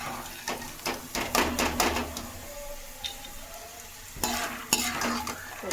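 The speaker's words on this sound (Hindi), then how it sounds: "तो जी मूंगफली मेरी भून गई है" Peanuts roasting in a pan are stirred and tossed, giving a series of close, sharp rattling scrapes and clatters in bursts, with a soft sizzle between them.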